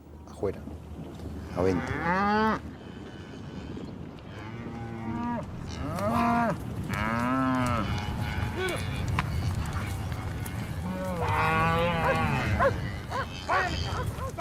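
Cattle moo loudly in a corral during a Patagonian branding roundup, repeated long calls from several animals overlapping near and far, with hoof movement and noise from the herd beneath.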